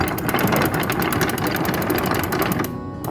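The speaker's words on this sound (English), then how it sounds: "Now we're going to wind the anchor in." A boat anchor is wound in with a manual winder, giving a fast, steady mechanical clatter of rapid regular clicks, loud and close, that slows and fades near the end.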